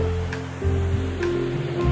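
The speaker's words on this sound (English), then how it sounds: "the music of the waves is so relaxing." Ocean waves breaking on a Scottish beach on a spring day, a steady roar of surf that swells louder partway through, heard close and continuous with no voices.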